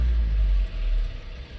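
A car engine revved once, a deep low rumble that swells and then falls back toward idle over a couple of seconds, close by with no talking.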